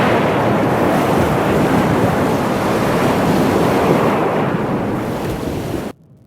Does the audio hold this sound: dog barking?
no